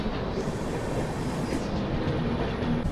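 The Grand Trunk Express, a New Delhi–Chennai Central passenger train, roars past close by at Tenali Junction in a loud, unbroken rush of wheel and carriage rumble with faint rail clatter.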